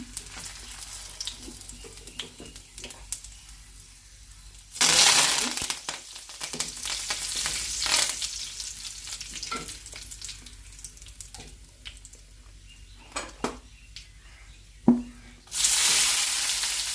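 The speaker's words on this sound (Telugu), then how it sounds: "ఆవాలు అయిన తర్వాత జీలకర్ర, కొద్దిగా మినపప్పు, ఇవి బాగా వేగినాయండి" Mustard seeds, cumin and a little urad dal fry in hot oil for tomato pappu, giving a soft steady sizzle with scattered pops and crackles and two loud bursts of hissing.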